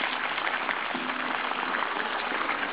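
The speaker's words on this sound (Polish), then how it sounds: "to ją podziwiam. Brawa." Audience applause at an international folk festival of regional ensembles: dense, steady clapping that fills the whole moment without a break, with no one speaking over it.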